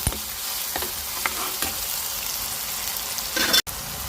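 Onion with ginger garlic paste frying in a pan for chicken pepper fry, a steady close sizzle with scraping stir strokes recurring through it and a sharp clatter near the end.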